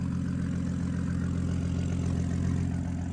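BMW F10 535i engine with a DIY big turbo kit running, a steady low droning hum with a faint hiss above it, even and unbroken throughout.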